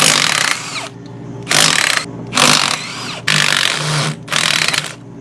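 A power tool backs out the bolts holding the front gear case on a Polaris Sportsman 800 ATV, running in five loud, close bursts of high whirring with short gaps between them.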